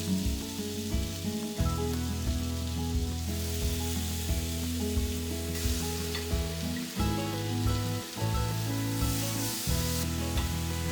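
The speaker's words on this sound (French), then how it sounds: "huiler et cuire 3 à 4 minutes de chaque côté" Pork sizzles steadily on a hot oiled grill or pan, a loud, close crackling hiss that runs continuously with small pops and shifts in intensity, and no voices.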